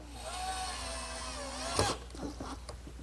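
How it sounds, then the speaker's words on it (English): A power tool cuts or smooths wooden Adirondack chair brackets, either a bandsaw or a drum sander, with a whining tone that bends in pitch, then a sharp burst and scattered rough grinding, all close. "I'll trace it on some pieces, cut them on the bandsaw, and then smooth out the edges with my drum sander."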